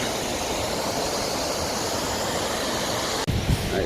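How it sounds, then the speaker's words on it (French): A river rushes in a steady, broadband roar of flowing water, loud and close, continuous until a brief handling bump near the end. "Ça va faire du bruit, ça, la rivière"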